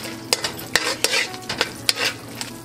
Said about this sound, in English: We're just cooking that curry down in the vegetables.